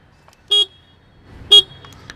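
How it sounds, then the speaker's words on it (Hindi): Two short, loud horn beeps from a Hero HF Deluxe motorcycle about a second apart, each a bright honk against near silence. "तो ऐसा कुछ हॉर्न इसका बजता है।"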